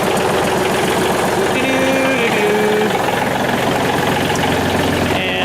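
A John Deere tractor engine idling nearby, a loud steady mechanical drone with slight knocking throughout, outdoors beside a sweeper attachment.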